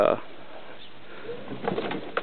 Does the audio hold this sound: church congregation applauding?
no